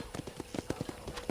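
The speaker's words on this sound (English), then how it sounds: "let's see if you can still ride a horse" Horse hooves clip-clop in Red Dead Redemption as a rider moves along at a quick, even trot, the hoofbeats soft and fairly quiet.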